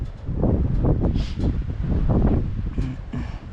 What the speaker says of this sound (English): A little windy out here.